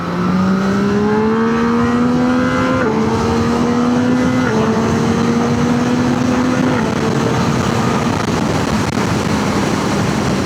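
A Yamaha MT-09 Y-AMT motorcycle in sport manual mode accelerates hard, its loud, close engine rising in pitch through several distinct upshifts, each shift marked by a brief dip before the revs climb again.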